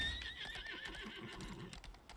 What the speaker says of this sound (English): we'll summon this beautiful horse here